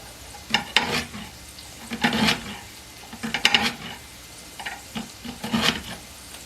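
A spatula scraping through vegetables in a sizzling skillet, several rhythmic stirring strokes over a soft frying hiss, close up and without speech.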